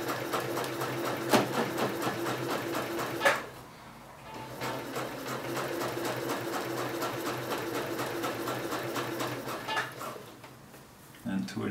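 A sewing machine stitches a trouser seam and back-tacks at its start, a rapid, even, close mechanical whirr that pauses briefly near the start and again near the end.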